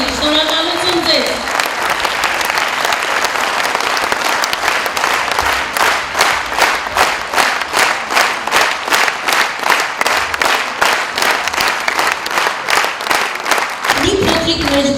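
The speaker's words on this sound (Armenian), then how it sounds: "ոտքի վրա ծափահարենք մեր զինվորներին, մեր ազգի զինվորներին" A standing audience at a 65th birthday tribute to ashugh Razmar Sasuntsi claps in steady, rhythmic unison for soldiers. The loud, sustained applause fills the hall, with a speaking voice briefly at the start and end.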